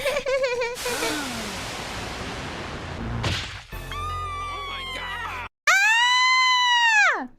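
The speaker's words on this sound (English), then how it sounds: "I hate it when people scream like the fakest scream in the world" A high, drawn-out voice-acted scream from an anime bursts out loud and strained near the end. Shrill vocal effects and clattering thumps come before it.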